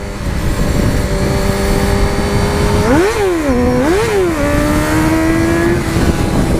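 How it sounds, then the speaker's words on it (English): A motorcycle with a faulty transmission revs hard while doing wheelies, its engine loud and close, rising and falling in pitch through several throttle swells with no talking. "Now I'm getting good wheelies."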